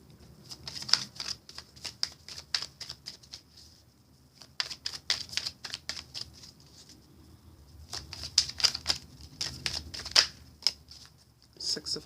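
Tarot cards are laid out for a reading, with bursts of quick, crisp card snaps and slides on a table, pausing and resuming in clusters at close range.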